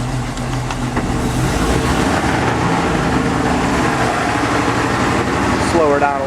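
A Rinker boat's engine runs in forward gear at low revs, a steady, close mechanical hum and rumble that persists throughout, with muffled talking partly audible over it.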